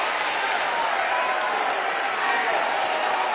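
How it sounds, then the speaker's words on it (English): Crowd noise at a Hedgesville high school boys basketball championship game, a steady roar of cheering and clapping filling the gym with no letup. "the Hedgesville crowd very much into the game"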